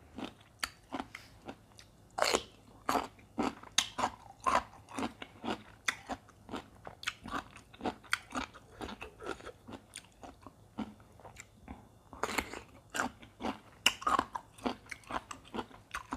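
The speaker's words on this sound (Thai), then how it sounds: "กรอบดีเป็นนะ มะม่วงพิมเสน" Crunchy pickled Pimsen mango is bitten and chewed up close in a steady run of sharp, wet crunches that carry on without talking.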